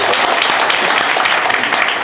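A convention audience applauds at a comics awards ceremony, a dense, steady wash of many hands clapping at full volume from start to finish with no pauses.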